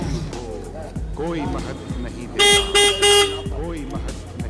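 A repaired car horn sounds in two short loud honks at a market, heard over a person talking nearby and a running engine.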